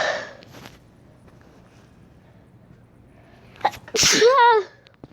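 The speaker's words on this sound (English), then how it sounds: "I feel the sneeze coming again." A single loud human sneeze bursts out near the end after a quiet stretch, preceded by a short sharp inhale, close and clear.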